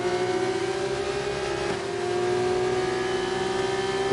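Race car engine in a racing video game at the Austria circuit holds a steady high whine at sustained revs while drifting through the final corner, loud and continuous with a slight pitch dip midway.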